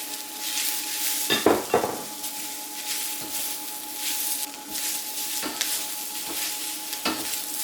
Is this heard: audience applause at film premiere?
no